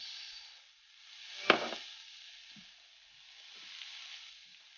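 Onions drop into a pan of hot extra virgin olive oil with a sudden sizzle, then a soft steady frying hiss continues with faint stirring clicks.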